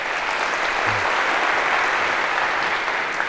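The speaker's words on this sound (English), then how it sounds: "a round of applause for our volunteers" A lecture-hall audience at a CS50 class claps for student volunteers in a dense, even round of applause that holds steady throughout with no voices over it.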